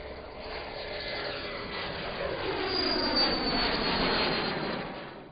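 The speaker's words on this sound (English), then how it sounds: "we're proud to show you the exciting new PiperJet" A Piper PiperJet jet aircraft roars through its takeoff run, a loud broad engine rush that swells and shifts in pitch as the plane passes, then begins to fade at the end.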